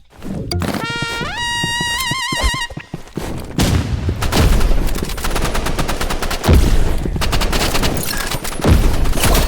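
Rapid gunfire in the Roblox game Rivals, sniper shots included, cracks out in dense bursts over synth tones and game effects, loud and sharp throughout.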